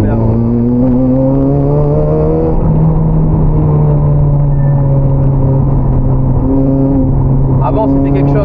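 Honda Civic with a 400 hp engine pulling hard on a mountain road, a steady loud engine drone climbing in pitch through the revs, with a brief shift around the middle.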